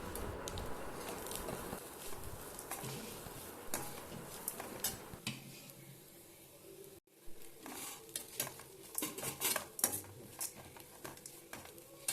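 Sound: mixing grated coconut in a pan

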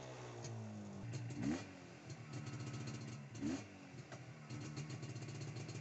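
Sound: classic CZ Jawa motorcycle riding through Havana streets

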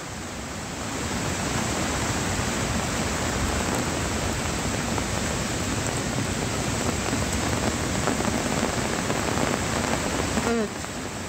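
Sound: heavy downpour of rain

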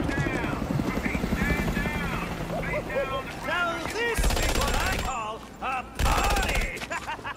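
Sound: gunfire at police in a Batman Arkham video game

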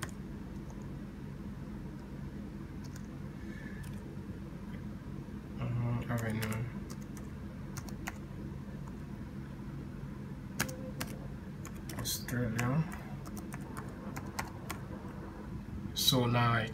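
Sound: typing on a computer keyboard

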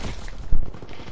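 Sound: gunfire in a WW2 video game

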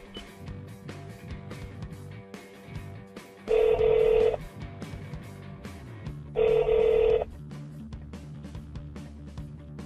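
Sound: car voice command phone dialing tones

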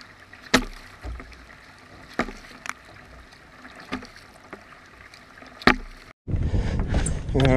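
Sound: kayak paddling out on water

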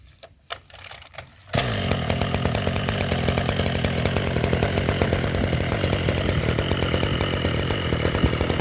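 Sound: Maruyama BC260 brush cutter engine running

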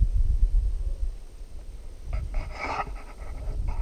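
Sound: dog panting

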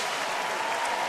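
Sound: baseball crowd applause

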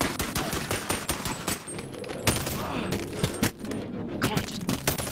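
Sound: Glock gunfire in Halo 3 video game

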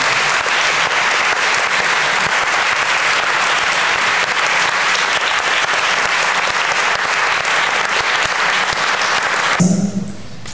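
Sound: audience applause at a literature competition

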